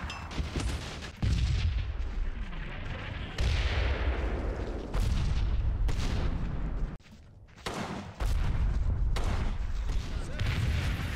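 Heavy gunfire and booming blasts in a Combat Mission Battle for Normandy battle, loud dense bursts with brief pauses and one short lull, continuing throughout.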